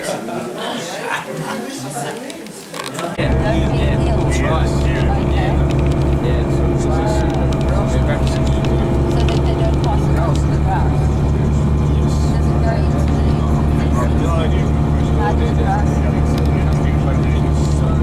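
A tour bus engine starts up and then rumbles loud and steady at close range while people talk over it.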